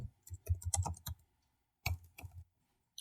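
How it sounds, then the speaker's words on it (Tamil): Fingers type on a computer keyboard in a quiet room: a quick run of close, crisp key clicks, a pause, then a shorter burst and a final single tap. "இப்போ கூகுளில் போயிட்டு இன்வாய்ஸ் அப்படின்னு மட்டும் டைப் பண்ணுங்க."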